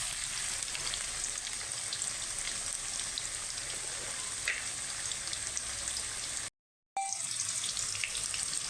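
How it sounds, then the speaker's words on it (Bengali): Potato pieces fry in hot oil in a pot for Bengali-style handi mutton, giving a steady bright sizzle that continues evenly, broken once by a short silent gap, with no talking. "আলুটাকে বেশ লাল লাল করে ভেজে নেব।"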